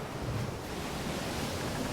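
Sea waves surging around a little boat heading out at dawn, a broad, steady wash of surf with wind noise, close and continuous with no voices.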